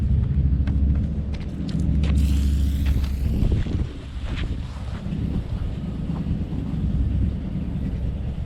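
Strong wind roars and thumps against the microphone, gusting in heavy low rumbles that ease briefly midway before picking up again.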